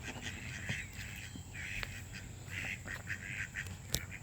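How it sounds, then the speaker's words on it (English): A free-range duck in a backyard garden near a pond gives several short quacks spread across the clip, fairly faint and a little distant, over steady outdoor ambience with chirping birds. "There's my duck, my free-range duck that I hatched a couple years ago."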